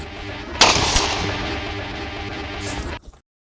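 Gunfire erupts in a sharp burst and continues as a dense, loud rattle for a couple of seconds before cutting off abruptly into silence.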